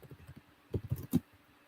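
Brief bursts of keyboard typing, soft clicks at first and then a few louder, quick keystrokes, heard close up with no talk.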